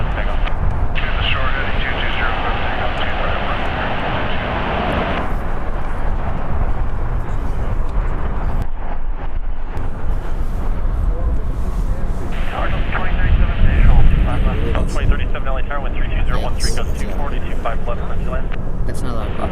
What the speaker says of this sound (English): Landing on the north is JetBlue Airways, Flight 1373.